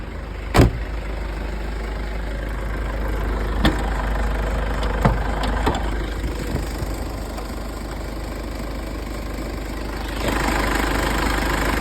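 A 2,500 cc turbo diesel car engine idles steadily with a low, rumbling drone and faint mechanical ticking, a few sharp clicks breaking through the constant hum.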